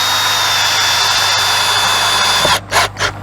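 Power drill driving screws into an aluminum-sided RV slide room, a loud close sustained whine that stops abruptly, followed by two short bursts of the tool.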